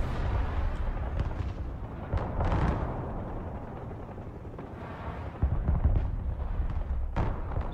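Artillery fire in the Broken Arrow war strategy game rumbles as heavy, booming blasts over a constant low roar of battle, with sharper impacts standing out and a voice faintly audible underneath.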